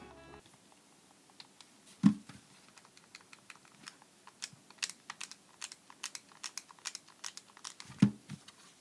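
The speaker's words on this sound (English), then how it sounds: "Face buttons, mushy rubber membrane." Face buttons on an RG CubeXX handheld with a mushy rubber membrane, pressed in quick, irregular bursts: soft, quiet clicks up close, with a couple of heavier thumps and no talking.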